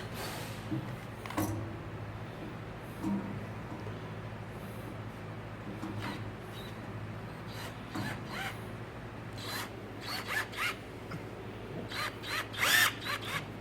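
Screws being tightened on a denim-covered table frame, heard as quiet, close rasping and ratcheting turns with intermittent scratchy bursts over a low background hum, no talking.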